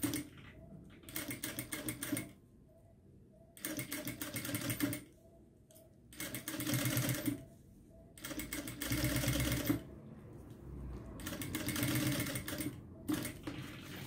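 A sewing machine stitches across a zipper while making a small toiletry pouch, running in several rapid whirring bursts of a few seconds each, separated by quiet pauses, close and clear.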